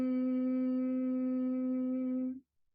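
A single steady closed-mouth hum like the syllable Om on one low pitch, held for about two seconds before stopping abruptly.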